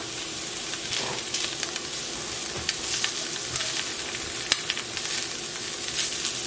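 Salmon fries in olive oil in a pan, giving a steady, fairly quiet crackling sizzle with small pops and the odd stir throughout, with no voices.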